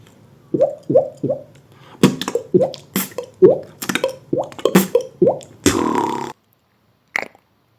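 A beatboxer imitates water drops without using a hand, making a rapid series of wet, popping plinks in quick rhythm, ending in a short hissy burst and one last pop.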